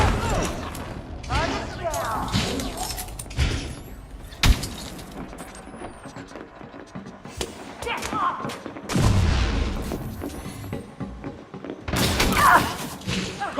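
Grenade blast and exchanges of gunfire in the Elite Dangerous Odyssey video game, with loud bursts and thuds scattered across the clip, heavy impacts near the middle and end, under game voice callouts.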